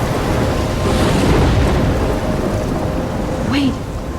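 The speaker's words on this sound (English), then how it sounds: "I'm trapped in a storm?" A thunderstorm with rain in the video game Life Is Strange: loud, steady rain roars throughout while a low rumble of thunder swells and fades beneath it.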